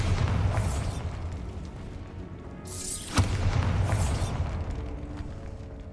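A Bombarda spell in Hogwarts Legacy bursts with a sharp crack and a spreading boom around the midpoint, preceded by a whooshing sweep, all over a steady low game rumble.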